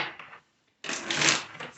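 Tarot cards are shuffled in two quick bursts of crisp riffling, the second longer and louder, separated by a brief silence, close up.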